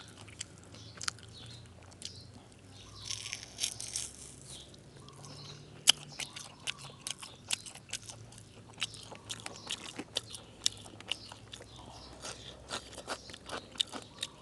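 Close, quiet crunching and chewing of salted pickled fish in the Russian style, a run of irregular bites and mouth sounds with faint background noise and no talk.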